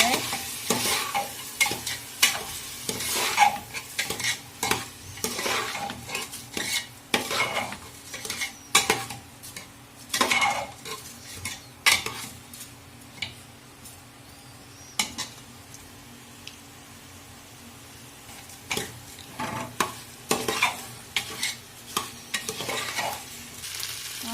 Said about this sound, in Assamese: ভালদৰে চাউলখিনি ভাজি ল'ম এতিয়া লৰাই